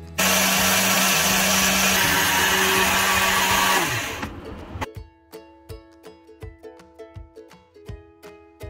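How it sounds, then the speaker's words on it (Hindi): An electric grinder blends fennel, nigella, fenugreek, cumin and black salt with a loud, steady whirring roar. After about four seconds the motor winds down, and a series of sharp rhythmic clicks and knocks follows. "तमाम चीज़ों को मिक्स करेंगे और बहुत अच्छे से इसको ग्राइंड कर लेंगे"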